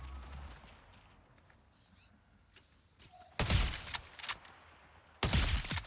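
Gunfire in a video game: two loud, sharp bursts of rapid shots about two seconds apart, cutting through a quiet background with faint game sounds.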